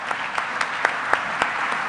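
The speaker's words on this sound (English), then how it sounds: "Round of a hand of applause." Applause from an audience at a robotics conference awards session, a dense, even patter of clapping with a few sharper individual claps standing out.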